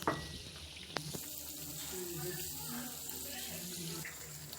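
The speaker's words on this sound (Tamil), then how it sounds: "ஒன்றரை கப் அளவுக்கு தண்ணி சேர்த்துக்கலாங்க." Water poured steadily into a kadai holding sugar for syrup in a Tamil kitchen, a soft continuous splashing trickle with a couple of sharp clinks near the start.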